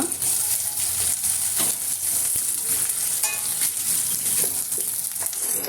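Continuous hissing sizzle of green chillies frying in a pan with onions for a village-style paya curry, close and steady, with occasional stirring scrapes.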